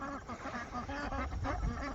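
Ducks at a wildlife pond quack in a rapid, repeated series of nasal calls, close and fairly loud, overlapping one another.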